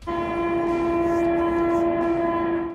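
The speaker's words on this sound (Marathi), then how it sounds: "ट्रेनचा आवाज येतोय कारण इथे जवळच थोडंसं खाली उतरल्यानंतर स्टेशन आहे" A train sounds a long, steady horn near a station below, the sustained tone holding for the whole moment and carrying clearly through a quiet morning with nothing else heard.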